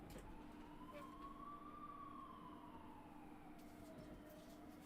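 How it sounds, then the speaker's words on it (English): An ambulance siren passes outside, faint and distant, its wailing tone rising and falling in slow sweeps over a low background hum. "Hear that ambulance?"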